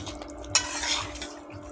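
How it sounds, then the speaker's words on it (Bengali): Ground spice paste for a goat head curry being stirred and sautéed in a pan, with soft scraping strokes, a sharp clink just past half a second, and a steady faint background hiss. "ভালো করে নেড়ে নেড়ে আমি কষিয়ে নেব"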